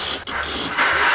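A motorcycle left parked for a long time fails to start, giving a close, loud, strained cranking drone that briefly dips and then surges without catching.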